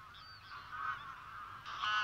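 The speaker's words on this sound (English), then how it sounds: "Thousands of geese invade the arable lands to feed on the cereals" Thousands of geese feeding on sprouted cereal fields at Villafáfila honk together at a distance, a continuous chorus of overlapping calls that grows slightly louder toward the end.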